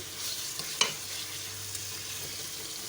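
Green masala fish curry frying gently in a pan as the pieces are turned, a quiet continuous sizzle with a sharp clack from the utensil and a couple of light knocks.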